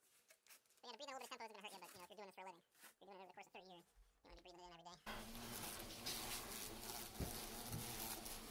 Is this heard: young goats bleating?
no